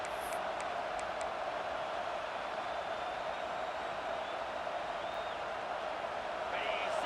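A stadium crowd in the video game College Football 26 roars in a steady, dense wash of cheering as the defense holds in the red zone, with a broadcast commentator talking over it.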